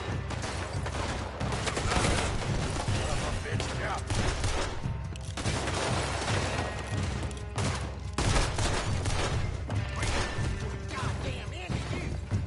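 Gunfire in Red Dead Redemption 2, a dense continuous barrage of shots and crashes under a loud wash of game sound, with voices mixed in.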